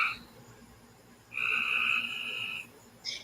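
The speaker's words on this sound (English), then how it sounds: "It almost sounds like a frog's choking. It is a frog." A frog calls in a short burst of harsh, buzzy croaking that holds for about a second, followed by a brief second croak, both fairly close against a quiet background.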